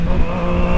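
Yamaha MT-09 motorcycle fitted with a new exhaust, engine running loud and close with a steady, throaty drone and slight pulsing over a brief moment.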